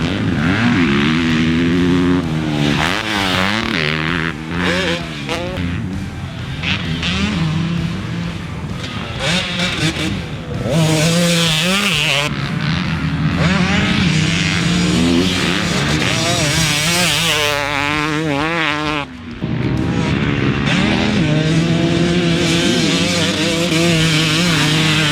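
Cooper Webb's factory KTM 300SX two-stroke motocross bike rips around a track, its high, buzzy engine repeatedly revving up and dropping through gears, loud and close with brief throttle-offs and no talking.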